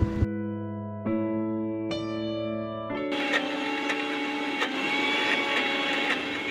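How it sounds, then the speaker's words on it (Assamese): A mixer grinder grinding black gram with salt for chutney runs loud and steady, its motor whine stepping up through several pulses before settling into a harsh, continuous grinding roar. "এতিয়া আমি এই আটাইখিনি বস্তু লৈ তাত সোৱাদ অনুসৰি নিমখ দি মিক্সিত ধুনীয়াকৈ পিচি ল'ম"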